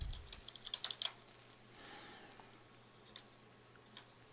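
Keys tapped on a computer keyboard to enter a folder name, a short burst of quick quiet clicks followed by a few scattered taps, faint and close in a quiet room.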